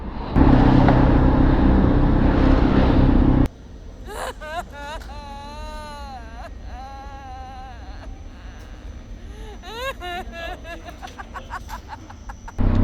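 A car heads home, with loud steady road and engine rumble filling the first few seconds before the noise drops away to a quieter background where voices and laughter take over.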